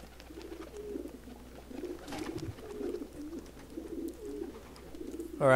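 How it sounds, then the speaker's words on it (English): Pigeons at a pigeon coop in Assassin's Creed 2 coo steadily in soft, repeated low calls under faint ambience, with a brief louder noise at the very end. "Ah, there's the pigeon coop."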